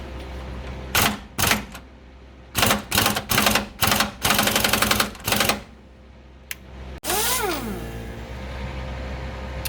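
Bolts being removed from a lower control arm on a C3 Corvette frame with a power tool, several loud close rattling bursts, then a longer whirring run with a pitch sweep.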